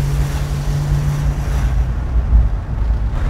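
A Plymouth Superbird being driven, its engine a steady low rumble heard from inside the car, with a constant drone and some wind noise throughout, fairly loud and without talk.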